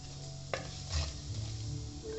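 Fenugreek and cumin seeds frying in hot oil, a steady close sizzle with a few stirring scrapes and a clink against the pan.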